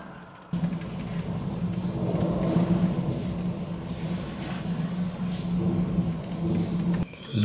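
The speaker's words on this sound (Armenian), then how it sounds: "Լսում եք կայծակները" Low thunder rumbles on through steady rain outdoors, a continuous deep roar that swells and fades over several seconds, loud and near.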